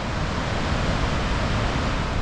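A waterfall in the Norwegian mountains roars as a dense, steady broadband rush of falling water, loud and continuous with no pauses or voices over it.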